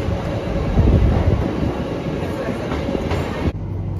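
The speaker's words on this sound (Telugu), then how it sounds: "మన ట్రైన్ అయితే జస్ట్ ఇప్పుడే తణుకు రైల్వే స్టేషన్లోకి ఎంటర్ అయిపోయింది" The Circar Express rumbles loudly and steadily as it pulls into Tanuku railway station, heard from on board with a dense, continuous roar of wheels and carriages that ends in an abrupt drop.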